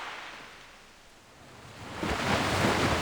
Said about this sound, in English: A large wave rises and then splashes onto the shore, accompanied by a melodious sound